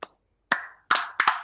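Scattered hand claps welcoming a guest, a few sharp, close, separate claps with short gaps between them, loud and isolated rather than a full crowd.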